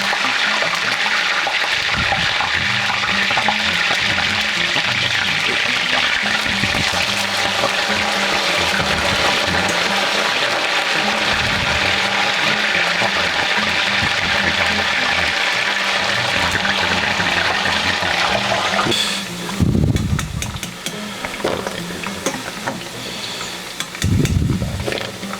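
Potatoes for spicy batata harra fry in hot oil in a pan, giving a loud, steady sizzling hiss that runs unbroken for about twenty seconds before it thins and breaks up near the end.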